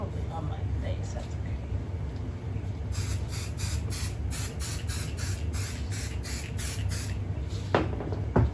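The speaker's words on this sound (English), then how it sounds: "then I'm going to just take a little spray lightly across there." Adhesive spray goes onto fabric while a quilt is sandwiched, heard as a run of about ten short, close hissing bursts in a quick, even rhythm, with a voice speaking around them.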